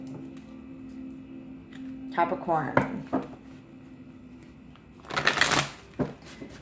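Tarot cards riffle in a quick shuffling burst, then a louder, longer flurry of cards being shuffled a few seconds later, while a person speaks briefly.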